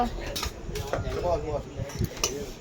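Rice served onto plates in a home kitchen, with dishes and serving utensils clinking and knocking in short irregular bursts while voices talk nearby.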